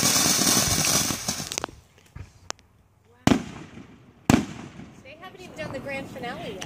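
July 4th fireworks crackle and hiss at first, followed by several sharp, separate bangs spaced a second or so apart, with quiet gaps between them and a voice talking near the end.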